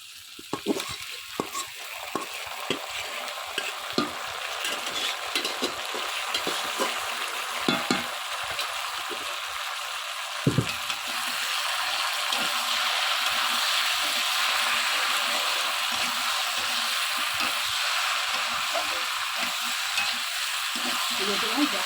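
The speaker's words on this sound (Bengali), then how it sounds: "দিয়ে আলুটাকে ভালো করে ভেজে নেব আলু আমাদের প্রায় ভাজা হয়ে এসেছে" Potatoes fry with loitta fish in a pan under an ongoing sizzle, broken by frequent scraping stirs. Around the midpoint the frying swells into a fuller, continuous hiss.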